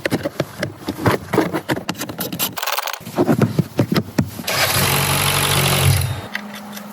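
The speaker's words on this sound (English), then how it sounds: "Good, cold engine." A Mercedes GLK engine starting from cold. Mechanical clatter and knocks come first, then the engine catches and settles into a steady, loud idle that holds for a couple of seconds before it cuts off. It is close by and there is no talking.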